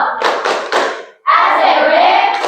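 A group in a classroom performs a rhythmic clapping chant: three sharp, close claps in quick succession, then a short gap and a loud collective voiced shout that holds to the end.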